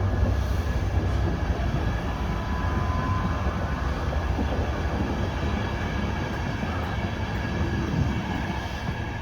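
Passenger train with first-class carriages passing through Ruabon station, a continuous loud rumble of wheels on rail with faint squealing, steady and close for the whole stretch and no talking over it.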